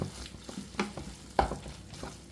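Scrambled egg and chicken are stirred in a hot pan for chicken kothu chapathi, with a soft sizzle under a few scraping spatula strokes, close and quiet.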